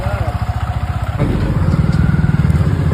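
A motorcycle engine runs steadily and close by during a ride, its low throbbing pulse rising slightly partway through, with people's voices over it.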